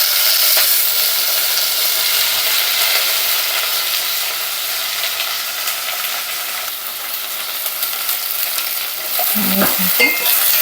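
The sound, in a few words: stirring chopped tomatoes in a pan for tomato rasam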